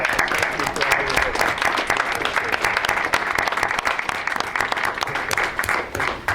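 Dense audience applause fills a room after a security update meeting, steady and loud for several seconds with many overlapping claps and occasional voices mixed in.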